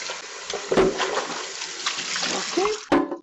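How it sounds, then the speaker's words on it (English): Water splashing and running while the plastic cover of a Keurig K-Slim single-serve coffee maker is rinsed clean of dish soap, close and fairly steady with short bursts of splashing. "make sure you rinse this good so you don't have any soap or any soapy water in your water"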